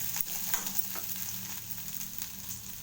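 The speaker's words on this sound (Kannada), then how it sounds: "ಈ ಥರ ಈರುಳ್ಳಿ ಬೆಳ್ಳುಳ್ಳಿ ಕರ್ಬೇವಿನ ಸೊಪ್ಪು ಹುರಿದ್ಮೇಲೆ ತೆಂಗಿನಕಾಯಿ ಅಷ್ಟೇ" Onion, garlic and curry leaves fry in a pan with a loud, continuous sizzle and crackle, stirred with a few scraping strokes throughout, no talking.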